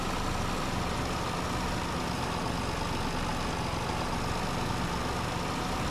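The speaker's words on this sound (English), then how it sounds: "this tractor is great for this sort of stuff" A tractor engine runs steadily while harrowing a ploughed, stony field, a loud continuous low rumble and drone with no breaks or speech over it.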